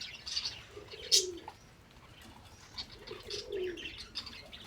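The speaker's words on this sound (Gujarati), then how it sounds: "અહીંયા કબૂતરને ભૂખ લાગે છે બધા કબૂતર સણમાં આવતા હતા" Pigeons around a feeding spot give soft, low cooing calls in two brief bouts under a light outdoor hiss, with a sharp chirp and faint flutter mixed in.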